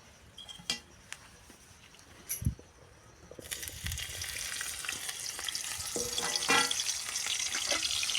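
Green chillies fry in a pan, a steady sizzle that swells and grows louder halfway through, with occasional clinks and stirring scrapes close by and no talk.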